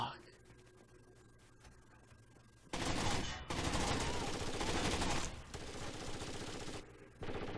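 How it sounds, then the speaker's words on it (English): Rapid bursts of gunfire from the video game Rainbow Six Vegas, loud sustained automatic fire with brief gaps, following a quieter stretch. "Just hear guns going off."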